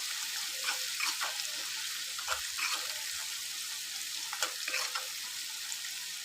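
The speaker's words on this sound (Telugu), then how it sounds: "ఇప్పుడు ఇవి మంచిగా ఆయిల్లో ఒక 5 మినిట్స్ ఫ్రై అవ్వనిద్దాం" Ginger garlic paste and turmeric fry in oil for a chikkudukaya (broad bean) curry, giving a steady soft sizzle with faint scattered crackles and a few small pops, close and low in level with no talking.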